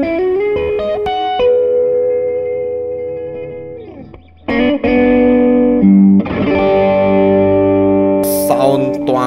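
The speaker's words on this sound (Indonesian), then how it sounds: "Jadi ini overdrive, pure overdrive. Gua suka banget Trooper Electronic overdrive ini." Squier guitar with Jazzmaster and Telecaster traits played through a Trooper Electronic overdrive pedal: a run of driven single notes and chords ringing out with sustained, gritty tone, loud and close, with a brief sharp bright burst near the end.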